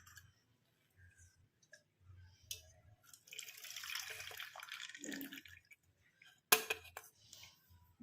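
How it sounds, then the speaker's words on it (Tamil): Dark turmeric decoction being poured through a filter, giving faint trickling and dripping with a short steady pour in the middle and a sharp clink near the end, quiet overall. "இப்போ நம்ம அப்படி ஃபில்டர் பண்ணி எடுத்துக்கலாம்."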